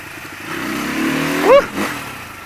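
A Suzuki RM250 dirt bike engine runs at a steady mid-pitched drone, then revs up sharply in a brief rising blip before easing back, close and fairly loud.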